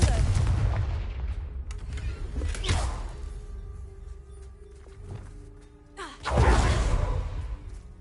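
In Hogwarts Legacy, Confringo fire spells go off as a series of booming blasts, one at the start, another near three seconds and a large one after six seconds, each with a whooshing burst and rumbling tail.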